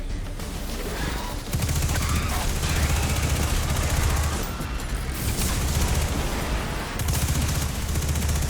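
Loud, sustained SMG fire from Destiny 2 rattles almost continuously in rapid automatic bursts, broken by a few brief pauses, amid a dense wash of combat noise.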